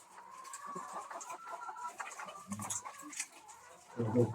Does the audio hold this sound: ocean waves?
no